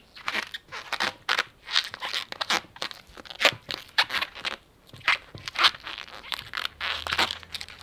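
Rubber squeaks and crinkles in a rapid, irregular series of short bursts, close up, as a balloon is twisted and stretched, with no talking.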